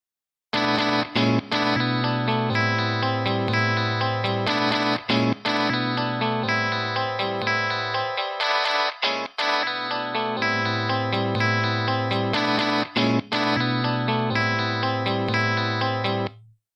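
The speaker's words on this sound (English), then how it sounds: "I'll just play that, and I'm going to gradually remove some of the low frequency information." A steady electronic music track with distorted, effected synths plays continuously, its low end thinning out partway through before the full bass returns.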